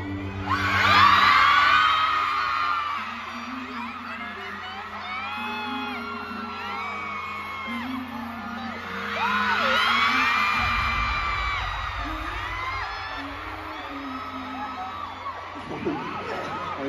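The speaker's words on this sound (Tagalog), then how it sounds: "siguro wala na ako marinig dahil ang lakas ng mga sigaw." A fan meeting crowd at the Mall of Asia Arena in Manila screams loudly for Lee Min Ho. Shrill cheering and whoops swell in two big waves, then settle into a sustained roar.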